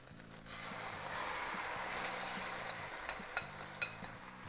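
Chicken and vegetables fry in a pan for a quick Asian-style dinner, giving a soft, steady sizzle with a few sharp clinks of a utensil against the pan toward the end.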